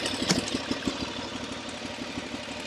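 A motorcycle engine runs steadily in first gear with the clutch feathered, a close, even idling rumble with regular low pulses and no speech over it.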